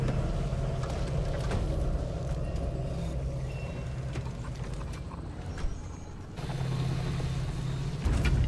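A car engine idling steadily in Pacific Drive, a low continuous rumble with creaks and mechanical rattles, a short dip then a louder surge near the end.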